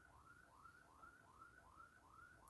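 A car alarm sounds outside at a distance, a faint, steady series of repeated rising whoops at an even pace, with a sharp click right at the end.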